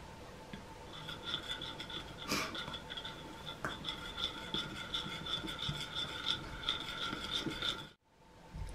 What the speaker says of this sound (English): Add a tablespoon to the egg and mix thoroughly. Work into a paste with the milk.